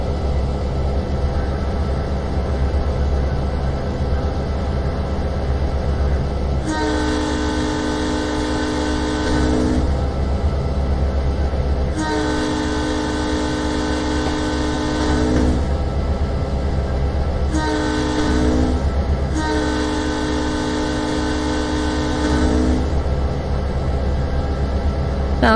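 A personal family railroad train of the Neuville Williamsburg Railroad Company rolls steadily, heard from inside a car with an open window, with a continuous low rumble and repeated bursts of tonal squealing or whistling riding over it.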